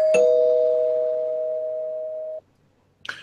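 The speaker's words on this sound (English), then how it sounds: "I'm going to hit the spoiler bell at this point" Single struck spoiler-bell effect: one clear, sharp ding whose pure tone rings out steadily for about two seconds before cutting off, followed by a brief faint noise, with no talking.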